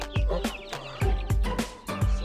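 Chickens on a Kentucky farm cluck in short, repeated bursts at close range, about half a dozen loud clucks in an uneven rhythm with little else around them.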